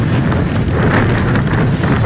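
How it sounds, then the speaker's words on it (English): Strong 40 to 50 mph wind roars steadily during a Ventura County wildfire near the 101, loud and continuous with heavy buffeting on the microphone. "40 to 50 mile an hour wind shot embers and flames across the 101"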